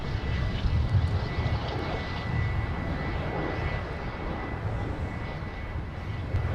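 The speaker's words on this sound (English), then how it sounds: "runway 17, clear for takeoff" An airliner takes off from runway 17 at Minneapolis–Saint Paul airport, a steady distant roar of engines heard from afar with a low rumble that swells and eases slightly.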